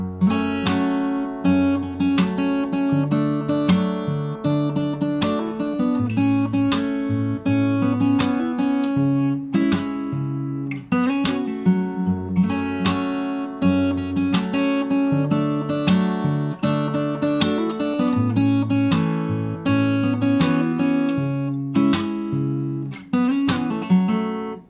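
Fingerstyle acoustic guitar playing the first verse of a song, a continuous flow of plucked bass notes and chords at a moderate pace, close, full and steady with no voices.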